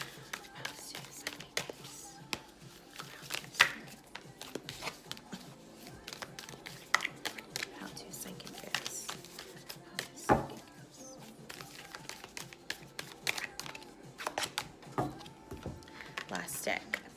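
A deck of tarot cards is shuffled by hand, giving irregular soft taps, flicks and thunks that cluster and pause throughout, quiet and close.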